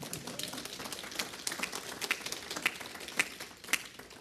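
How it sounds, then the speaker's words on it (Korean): A small audience at a political lecture gives faint, sparse applause, scattered individual claps rising out of a quiet room with a few louder sharp hand strikes toward the end. "박수 좀 쳐봐."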